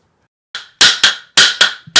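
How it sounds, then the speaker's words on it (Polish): Five sharp hammer blows ring out close by, in quick uneven succession after a brief silence. "Jednak młotek."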